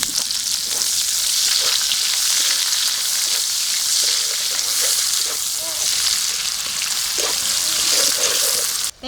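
Chopped onion frying in hot oil tempered with garam masala, a loud continuous crackling sizzle up close, broken by occasional soft stirring scrapes and clicks, cut off abruptly at the end.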